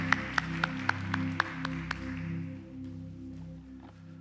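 A church congregation claps in a steady rhythm during a worship service, several sharp, even claps over sustained organ-like music before the clapping fades and the music carries on alone.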